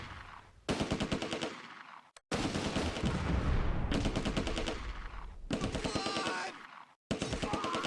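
Sustained rifle and machine-gun fire from an infantry platoon in the Close Combat A Bridge Too Far war game, loud and dense bursts of rapid shots broken by two brief silences, with no talk.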